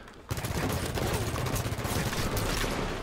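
Sustained automatic gunfire in the Halo 5 multiplayer Super Fiesta mode, a dense, loud, unbroken burst of rapid shots starting abruptly and filling the whole stretch.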